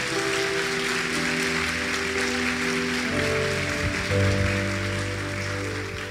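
Church congregation at a Sunday celebration service clapping steadily, a broad even wash of applause with sustained organ or keyboard chords ringing underneath throughout.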